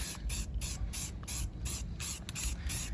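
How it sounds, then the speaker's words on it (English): An aerosol can sprays in a quick series of short hissing bursts, close and steady, with brief gaps between each spray. "spray this on"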